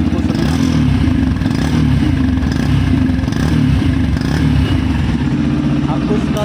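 A 2023 Yamaha FZ-X 150 OBD-2 motorcycle engine runs close by, a loud, steady idle with a rough low rumble that continues throughout with no pauses.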